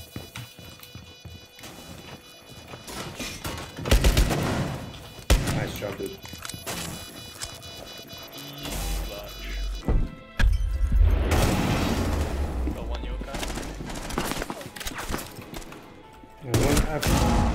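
Rainbow Six Siege gunfire crackles in bursts and volleys, with sharp close shots and heavier booms scattered through the fight, while a player talks over the action.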